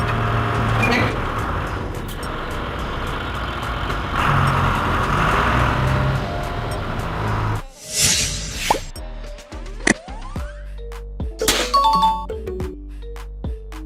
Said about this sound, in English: This is a hook lift truck that uses a flexible hook system to load, swap, and transport different container sizes